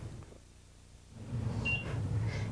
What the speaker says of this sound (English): I hear the beep